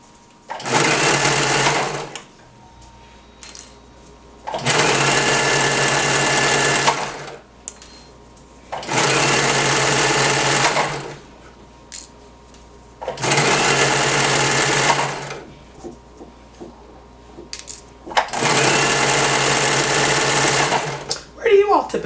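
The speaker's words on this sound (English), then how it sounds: "Right now I'm sewing in my kitchen." A home sewing machine stitching a romper in a kitchen, running loud and steady in five long bursts of about two to three seconds each, separated by short pauses.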